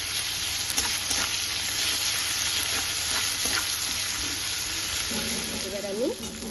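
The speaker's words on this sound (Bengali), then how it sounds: "এবার নাড়াচাড়া করে মিশিয়ে দিচ্ছি।" Turmeric and ginger paste frying in a pan while being stirred, giving a continuous close sizzle with occasional soft scraping strokes and a faint voice-like tone near the end.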